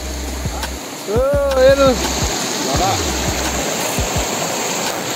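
A river flows through hilly country near Nilok, Lower Siang, Arunachal Pradesh, giving a constant rushing wash throughout while someone speaks briefly over it.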